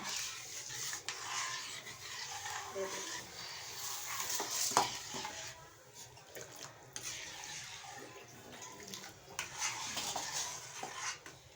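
Food is stirred in a cooking pot with soft, continuous scraping and clinking of a utensil against the pot, moderately close, with faint watery sloshing and no voices.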